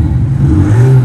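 Electronic Thor exhaust unit fitted to a Volkswagen Scirocco, simulating a BMW Z4 engine note: a steady, loud, low engine rumble with a slight rise in pitch toward the end, heard alone and close.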